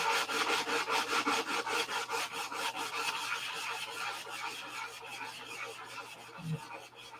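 A P-47 model is hand-sanded in quick, regular back-and-forth strokes. The rasping is close and even, then slows and stops near the end with a small knock.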